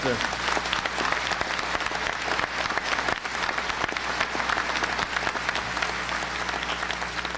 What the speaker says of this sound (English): I don't think we've applauded the faculty for an outstanding job that they've done.